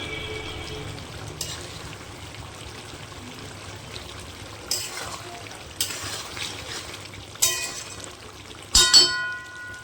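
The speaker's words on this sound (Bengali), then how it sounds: "চিকেনটা কষানো হচ্ছে, এরকম কত সুন্দর কালার ছেড়েছে।" Chicken in yogurt is stir-fried in a pan with a steady, close sizzle. Stirring scrapes and clanks punctuate it, growing sharper toward the end, with no talking.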